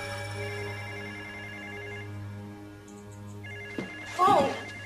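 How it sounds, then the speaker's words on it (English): A telephone bell rings in a steady electronic trill across most of the clip, then a voice breaks in near the end. "Yes, that's a phone."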